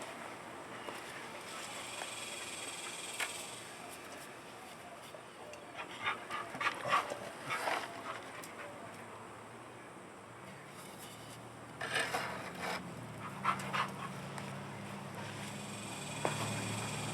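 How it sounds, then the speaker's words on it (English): A female dog pants quickly and whimpers nearby during a gypsum soil test, the panting running in soft rapid bursts over outdoor wind noise, with no talk. "Sorry about my dog, she's uncontrollable."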